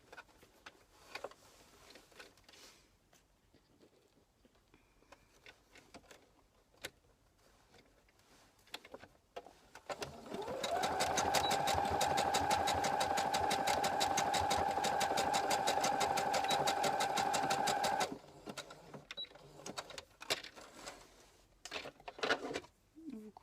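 A sewing machine stitches an elastic waistband, running in one continuous, fairly loud whirring burst for several seconds between quieter handling noises.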